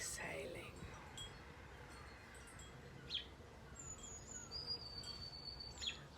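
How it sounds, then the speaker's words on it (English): A soft, steady hum of insects fills the air outdoors, with a few faint, high bird chirps in the distance. "I can hear a beautiful hum of bees around me"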